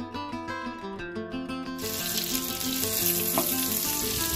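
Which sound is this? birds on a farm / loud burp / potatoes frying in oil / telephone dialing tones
potatoes frying in oil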